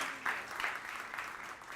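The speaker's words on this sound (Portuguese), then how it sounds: "Aplauda o Senhor Jesus, glorifica ao Senhor Jesus." A congregation at a church service claps together in steady, dense applause, a continuous patter of many hands at moderate volume.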